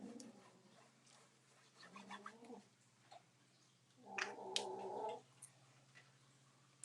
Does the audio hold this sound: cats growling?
yes